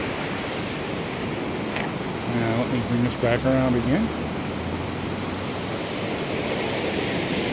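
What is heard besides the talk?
roaring river water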